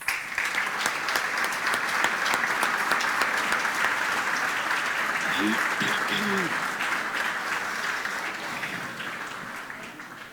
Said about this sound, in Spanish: Nuevamente fuerte el aplauso